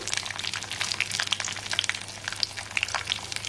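A spoonful each of urad dal and chana dal frying in hot oil for a banana flower curry tempering, giving a steady close sizzle scattered with bright crackles and pops.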